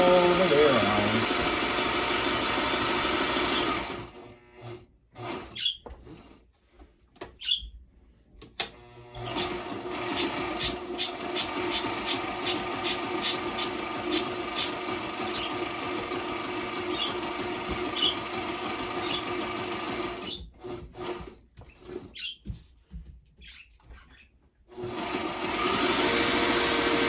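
A sewing machine runs in long stretches while stitching all the way around a Christmas stocking, a steady mechanical whir broken by short pauses, with a voice speaking over parts of it.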